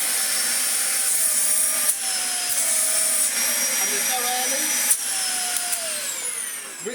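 A Dyson DC50 Small Ball upright vacuum cleaner runs with a newly fitted motor, a loud high-pitched whine held steady for several seconds, with a few knocks and rubbing handling noises over it.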